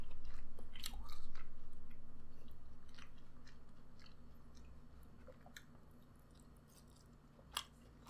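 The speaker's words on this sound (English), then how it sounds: "So just going for a bite here. Go for the plain bite first." A bite of delivery steak is chewed close to the mic in an eating session, soft wet chewing and crunchy bites repeating over several seconds, with a louder bite near the end and no talk.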